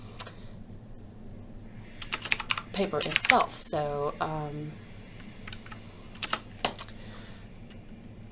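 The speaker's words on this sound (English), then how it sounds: "Typing and talking at the same time, not so fun." Typing on a computer keyboard, a run of quick, close clicks that mixes with a person talking and carries on in short bursts after the speech.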